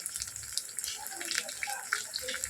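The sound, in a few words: frying in a pan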